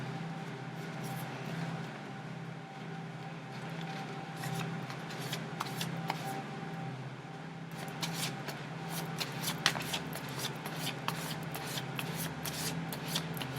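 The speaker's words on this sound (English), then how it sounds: "One more shuffle." Playing cards shuffled by hand, a series of close, quiet riffling and flicking bursts over a low room hum, growing busier toward the end with no speech.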